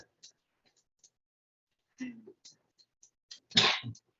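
A single loud sneeze bursts out near the end of a pause at a school board meeting, after scattered small clicks and a brief murmur from someone in the room.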